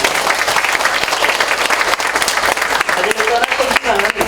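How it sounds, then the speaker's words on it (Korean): Loud, sustained applause from a crowded conference hall at a Korean academic society's autumn meeting, a dense steady clatter of many hands that carries on without letup for several seconds, with faint voices mixed in. "우리 모두를 위해서 큰 박수도."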